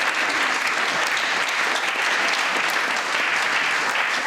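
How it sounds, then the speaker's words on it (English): An audience at a live comedy show gives a big round of applause, a dense, loud wall of clapping that stays constant from start to finish with no voices standing out. "Can we have a massive round of applause?"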